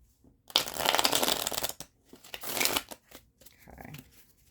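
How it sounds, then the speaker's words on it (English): A tarot card deck being shuffled by hand up close, two long riffling bursts of flicking cards followed by a few shorter taps and rustles, with no talk during it. "let me shuffle this deck"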